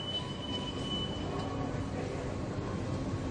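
Bangkok subway train riding along, a steady low rumble of the carriage with faint high squealing tones from the wheels, heard from inside the car, no talking.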